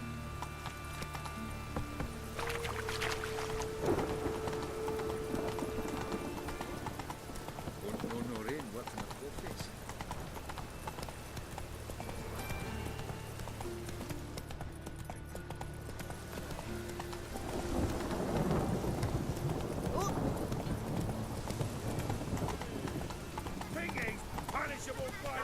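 The horse Roach in The Witcher 3 running, with steady rhythmic hoof clip-clops across the whole stretch, under a continuous music and ambient bed, with occasional voices talking over it.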